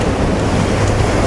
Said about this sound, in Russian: Морешка штормит, блин, такое грязное